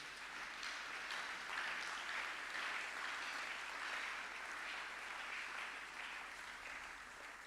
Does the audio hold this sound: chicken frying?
no